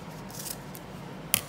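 Scissors snip banana leaves for a Khmer dessert, two quick sharp cuts near the end after a quiet pause.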